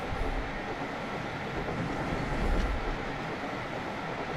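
Thomas the Tank Engine locomotive in a video game railway run, racing at high speed across a viaduct, with a steady, loud rumbling rail roar and wheel clatter that swells briefly midway, no voices.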